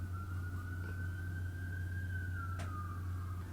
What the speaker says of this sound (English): can you hear those sirens?